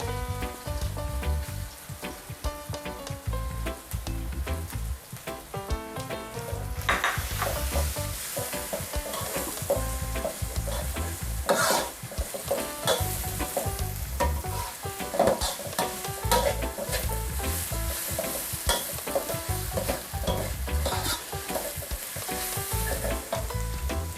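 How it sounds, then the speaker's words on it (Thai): Sliced fingerroot (krachai) is stir-fried in a pan for a crispy catfish pad cha. A loud, continuous sizzle runs close by the whole time, with frequent clattering stirs and no voices. "ผัดจนกระชายมีกลิ่นหอม"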